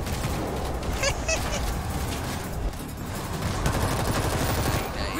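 Bursts of rapid gunfire in the zombie shooter World War Z, dense crackling volleys over a busy game soundscape with loud continuous background noise.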